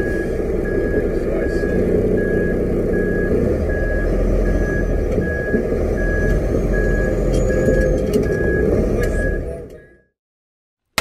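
A training truck with a trailer sounds its reversing alarm as it backs straight, a loud, evenly spaced beeping over a heavy engine rumble that stops abruptly near the end.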